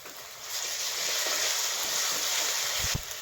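Garlic paste hits hot oil in a pan with a sudden, steady hiss that holds close and loud for a few seconds before a brief knock at the end.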